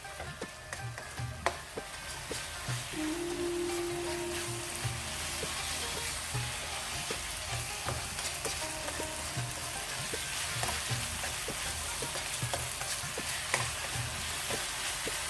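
Minced meat (qeema) sizzles and crackles steadily in its own rendered fat over a medium gas flame, with a spoon stirring and scraping the pan now and then, close and continuous, no talking.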